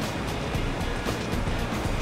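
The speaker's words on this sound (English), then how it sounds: "So just grab the jug, and we're going to pour" Fluid glugging steadily from a jug into a car engine's filler neck, a continuous broadband pouring wash that stays fairly even and close for about two seconds, with no talking.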